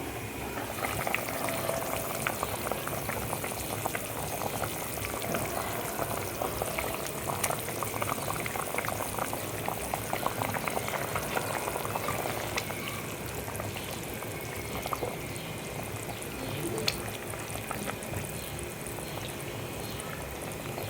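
A Bengali katla fish curry boils in a pan, a continuous close bubbling and simmering hiss that holds steady throughout with faint clinks; no talking.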